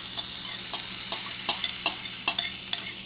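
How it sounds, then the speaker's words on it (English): Eggs and chopped tomatoes cook together in a pan for Indian-style scrambled eggs, giving a faint, steady sizzle broken by a series of light scraping taps as they are stirred, with no talk. "we want eggs and tomatoes to cook together"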